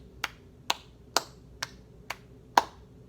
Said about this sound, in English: I'm clapping them